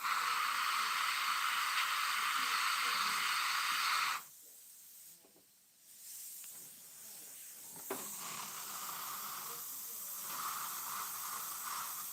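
An airbrush sprays paint in a steady, loud hiss that cuts off partway through, followed by quieter, lighter bursts of spraying over softer background noise.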